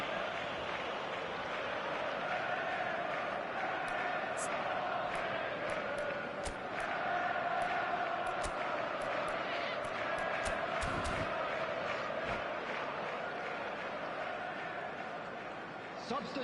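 A steady stadium crowd roars and murmurs in a football video game, loud and continuous with small swells, while a commentator's voice runs faintly underneath.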